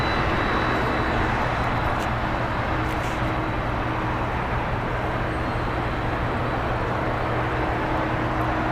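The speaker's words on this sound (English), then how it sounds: "It's a Boeing 7670R freighter. It's 31 years old. Just taxiing behind the building." A 31-year-old Boeing 767 freighter taxis behind a building at LAX, its engines giving a steady, broad roar that holds evenly throughout from a moderate distance.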